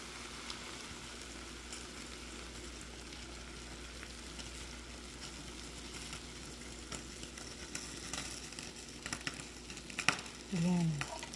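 Coconut milk (gata) simmers and sizzles in a pan with tilapia and laing, a steady close bubbling hiss throughout with a few light clinks and a brief low hum near the end.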